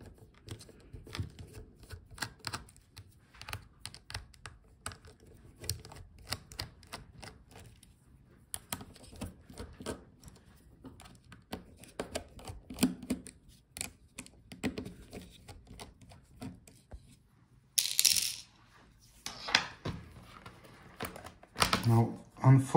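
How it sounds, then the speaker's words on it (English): Small hinge screws are worked loose on an HP Omen Transcend 14 laptop, giving a run of close, light ticks and clicks with some sharper handling knocks and rustles near the end. "So take out the screws for the hinges."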